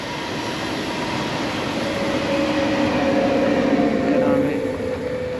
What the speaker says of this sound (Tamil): இது வந்து இன்டர்சிட்டி இது வேறு இடத்துக்கு போகிற ரயில்